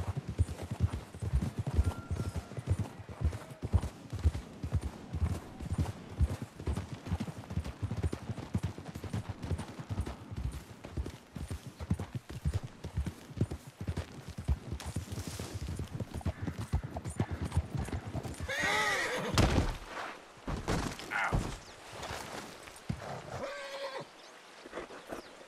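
Horse hooves clip-clopping at a steady gallop with a whinny toward the end, from the Red Dead Redemption 2 video game, with gunfire-like bursts and faint talk in the background.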